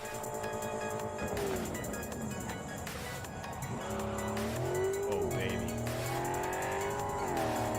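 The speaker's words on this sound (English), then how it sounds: "I love how I'm just redlining it" A car engine in Cyberpunk 2077 revs hard at redline, close and loud, its pitch climbing and falling through repeated pulls with tire squeal mixed in and no talk over it.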